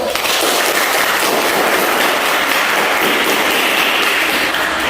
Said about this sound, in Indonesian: Oke, sebenarnya kita beri aplaus dulu.